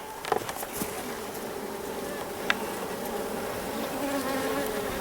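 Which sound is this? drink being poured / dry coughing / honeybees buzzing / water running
honeybees buzzing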